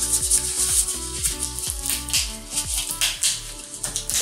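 Plastic wrap is pulled and crinkled off a new LG SK1 sound bar during unboxing, close and fairly quiet, with a run of short crackling rustles and rubbing sounds.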